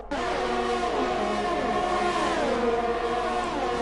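Formula 1 cars racing side by side in the F1 2020 video game at Bahrain: loud, whining engine tones that rise and fall through gear changes, continuous and close, with no one talking.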